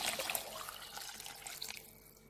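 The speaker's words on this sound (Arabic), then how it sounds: "نمرقوا غير بشويه بالماء سخون هكا" Hot water pours steadily from a vessel into a pot of green beans being cooked as a traditional stew, a continuous close splashing wash of liquid lasting a couple of seconds.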